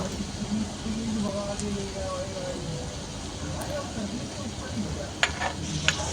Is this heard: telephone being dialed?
no